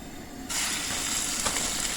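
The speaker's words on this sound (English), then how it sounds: "I got me some chicken strips that I'm going to put there and brown them." Steady bright sizzling of chicken strips frying in a hot cast iron skillet on a camp cookstove, jumping louder halfway through as they hit the oil, close and continuous with no talking.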